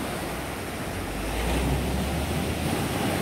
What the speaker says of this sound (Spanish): el sonido de estas olas del mar